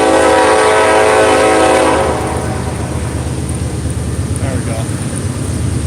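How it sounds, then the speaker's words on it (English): A passing train sounds a loud horn for about two seconds, then the steady rumble and clatter of rail cars continues close by along a main street. "Let's see if we get the train in there."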